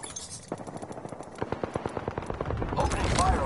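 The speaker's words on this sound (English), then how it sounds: "Opening fire on the enemy." Rapid bursts of automatic gunfire in a battle royale video game, sharp evenly spaced shots at moderate distance, followed by a denser clattering rush and glassy clinks near the end.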